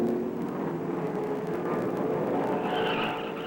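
A race car roars past on a track, its engine a loud, steady, close roar with a higher whine climbing in toward the end.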